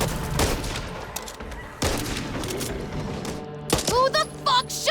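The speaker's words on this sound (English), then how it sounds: "Who the fuck shot me?" Rapid bursts of video game gunfire, several loud close shots and volleys in quick succession with brief gaps between them.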